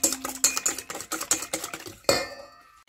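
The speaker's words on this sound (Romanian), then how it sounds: "Batem foarte bine ouăle și vom adăuga aproximativ 300 de grame de zahăr treptat și vom bate din nou." Eggs being beaten with sugar in a bowl for a cake batter, a quick run of rhythmic clinking strokes against the bowl that pauses briefly, then one sharper clatter before it trails off into quiet.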